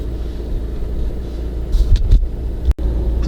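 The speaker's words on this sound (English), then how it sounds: "Start the car up, clutch down, and that diesel unit comes to life." The diesel engine of a 2019 Vauxhall Grandland X hums steadily from inside the cabin as a low, even rumble, with a brief dip partway through.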